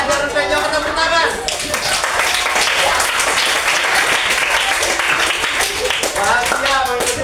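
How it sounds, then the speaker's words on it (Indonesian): A class of schoolchildren claps together after a physical education lesson, loud and dense throughout, with children's voices and chatter mixed in over the clapping. "tepuk tangan."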